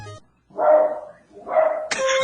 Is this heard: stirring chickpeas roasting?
no